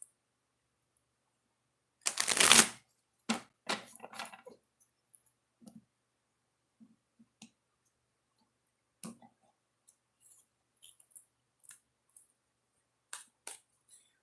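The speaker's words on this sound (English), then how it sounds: "get the cards all back in and shuffle them back up" A deck of tarot cards is shuffled up close in a quiet room. A short riffling burst comes first, then scattered soft clicks and taps of cards settling, spaced out and faint.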